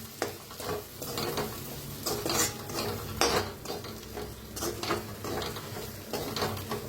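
Half a spoon each of coriander powder and turmeric dry-roasting in a pan, with repeated scraping and clinking strokes of a spoon stirring against the metal and a soft sizzle underneath, close and fairly loud.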